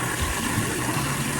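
Cold water runs steadily from a tap, a continuous close splashing hiss with no talk over it.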